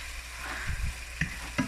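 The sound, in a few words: smoked herring frying in pan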